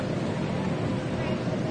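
Racing boat engines fire up at the start line of a race on Lake Havasu, a continuous broadband roar mixed with wind buffeting the microphone.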